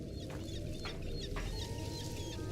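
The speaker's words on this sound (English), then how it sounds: "That little bird thing spit acid at me." A small bird-like creature in a video game gives a few short, soft clucking calls in a quick sequence, heard at low volume over steady game background sound.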